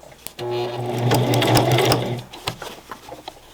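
A sewing machine runs slowly through layered backpack fabric in one steady close burst of about a second and a half, followed by a few light handling clicks.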